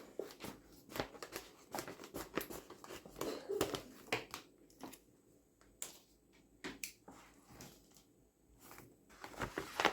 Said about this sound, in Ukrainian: мені знов знадобляться ножиці, щоб відрізати цей пакетик